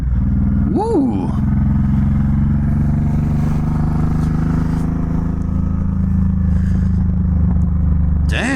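Honda VTX1800 cruiser motorcycle with hydraulic clutch, its big V-twin droning steadily at close range through a ride, with a brief whoop of a voice near the start and wind noise over the engine.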